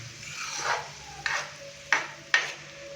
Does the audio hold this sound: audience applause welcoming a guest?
no